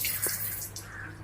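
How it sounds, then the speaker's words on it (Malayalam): A single faint drip of water falls from a leaking pipe in a home bathroom, one brief soft plop against a steady low background hum. "ഈ പൈപ്പ് ലീക്ക്."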